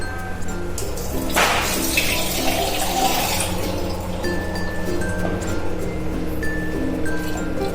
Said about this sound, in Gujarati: આપણે થોડું પાણી નાખીએ અને ઉકળવા દઈશું એને